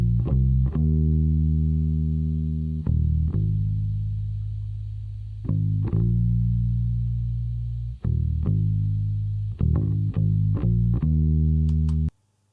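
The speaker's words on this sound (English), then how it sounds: "you can have a listen to the raw bass track" A raw electric bass track plays sustained, buzzy notes with a few breaks between phrases, over a faint steady hiss.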